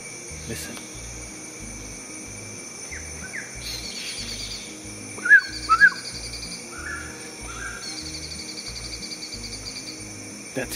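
Blue-winged pitta calling in Malaysian rainforest: a few short, clear whistled calls stand out midway over a steady bed of cricket and insect chirring, with other faint bird notes and a brief murmur of voice.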